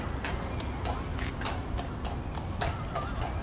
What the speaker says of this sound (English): A horse-drawn carriage.